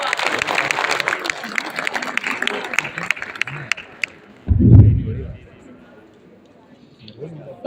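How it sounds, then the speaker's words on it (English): An audience at an annual convocation ceremony applauds with dense, crackling clapping that fades away over about four seconds, followed by a dull low thump and quiet. "A huge round of applause, everyone."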